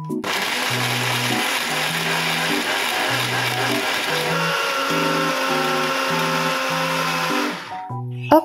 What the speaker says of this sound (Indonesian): Nah ini aku mau blender dulu ya guys. Aku pakai chopper ini aja